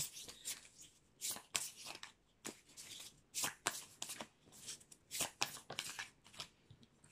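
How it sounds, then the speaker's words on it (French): Oracle cards being shuffled and drawn, a rapid series of crisp riffling bursts close by, with no talking over them. "Donc, je vais prendre une carte."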